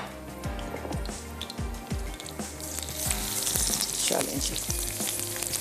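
Onions and slit green chilies sizzle in hot oil, with repeated stirring scrapes and clinks of a spoon against the pan, crackling steadily close up while a voice speaks briefly.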